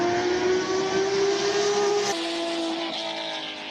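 A classic race car at a Speed Classic event in Cape Town, its engine droning with a sustained tone that drops in pitch as it passes and fades, no voices.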